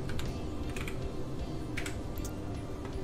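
Computer keyboard keys are typed in a quick run of light clicks over a low steady background hum, close and moderately quiet, with no voices.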